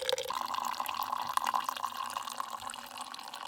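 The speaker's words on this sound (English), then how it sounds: "This is just straight water coming out." Plain water, with no fuel in it, drains from the fuel shutoff of a used snowblower, making a steady close trickle and drip into a container throughout.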